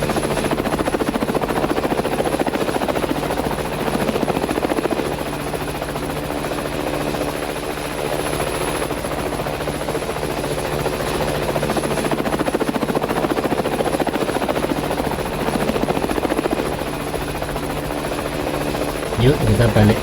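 Inside a helicopter in flight, the engine and rotors make a loud, continuous droning hum with a steady buzzing pulse, close and unbroken for the whole stretch.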